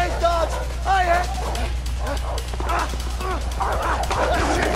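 Dogs bark and yip repeatedly while giving chase in the video game A Way Out, close and frantic over a constant low rumble, with shouting voices mixed in.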